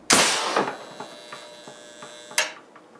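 An electric solenoid valve air cannon fires with a loud, sharp blast at the start, followed by a ringing decay and a steady mains hum, then a second smaller clank later on.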